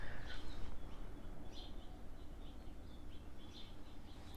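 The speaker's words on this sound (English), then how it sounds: "I don't know if you can hear the birds." Birds call outside a window, with faint, scattered high chirps over a quiet background hum and no talking.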